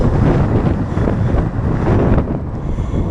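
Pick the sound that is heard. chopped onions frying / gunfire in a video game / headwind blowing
headwind blowing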